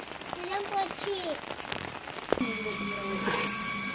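Rain falls steadily outdoors during a festive day, a soft continuous patter under scattered voices and a few sharp bangs and clatters nearby.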